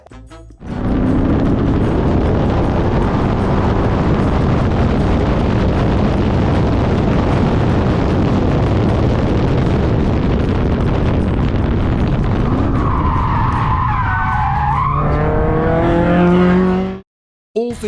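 Keegan's race car on a Dezzi race day fires up with a loud blast and settles into a roaring, rough idle close by. The engine then revs in rising, falling pulls before cutting off abruptly.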